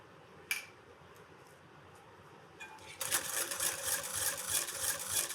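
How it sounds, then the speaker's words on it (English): Egg yolks with sugar and a pinch of salt whisked in a bowl: after a few isolated taps, a steady, brisk rattling of the whisk starts and keeps going, close and fairly loud. "And just whisk this around."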